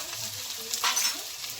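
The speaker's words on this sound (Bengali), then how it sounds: "পেঁয়াজের সঙ্গে ভালো করে বেগুনটা একটু ভেজে নেব" Chopped brinjal sizzles softly as it fries with onion and garlic in a pan, a faint, steady crackle with one brief swell from stirring partway through.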